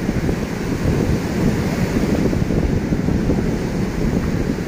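Surf on the Mayan beach at dusk, a continuous rushing wash of waves mixed with heavy wind buffeting the microphone, loud and steady, with no talk.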